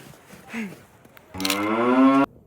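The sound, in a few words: cows mooing in Davos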